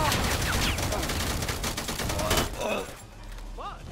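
Dense, rapid gunfire crackles in the video game Predator: Hunting Grounds, with loud overlapping bursts for a few seconds before thinning to scattered shots, and a voice heard faintly in the mix.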